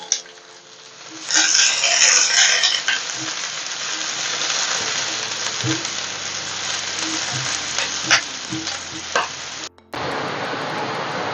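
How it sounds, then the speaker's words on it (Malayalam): Mustard seeds and chopped onion frying in hot coconut oil for a cashew nut curry, a steady close sizzle that swells loud in the first seconds, then holds with occasional stirring clinks and a brief dropout near the end. "നമുക്കതിനെ കടുക് വറക്കാനായിട്ട് വെളിച്ചെണ്ണ ഒഴിച്ച് ചൂടായിട്ടുണ്ട്."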